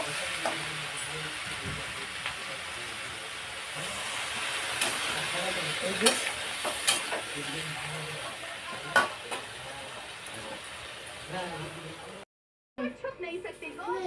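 Curry sautéing in a pan, a steady close sizzle with repeated scraping stirs, then a brief silence and a short return of frying at the end.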